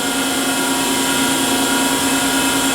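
The 5 hp motor of a Bridgeport Harig Model 1224 EZ Surf II 2-axis CNC surface grinder runs with a loud, steady mechanical hum and a whine that holds constant throughout.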